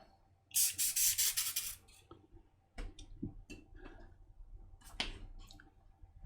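Cloth wiping across a laptop screen during cleaning of a Lenovo IdeaPad 100, a loud close rubbing burst followed by quieter intermittent rubs and light taps.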